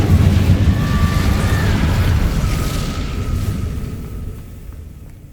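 An Incendio fire spell cast in Hogwarts Legacy bursts with a deep booming rumble that slowly fades away over several seconds.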